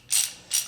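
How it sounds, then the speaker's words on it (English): A ratchet fitted with a 13mm socket, handled during an oil change on a 3.6L V6 Jeep Wrangler JL or Gladiator, gives two quick, crisp, close clicking bursts in under a second, with no talk. "I'm going to grab my ratchet, my 13mm socket"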